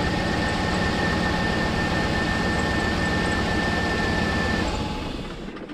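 A steady GM Gen 3 LS engine drone runs loud and continuous with a faint whine on top, then cuts off and fades near the end.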